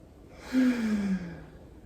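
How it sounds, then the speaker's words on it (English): One slow, deep breath taken during a seated chair yoga stretch, a soft airy exhale that swells and fades over about a second, close and quiet with no talk. "Let's just bring our hands to our hearts and take a moment to breathe."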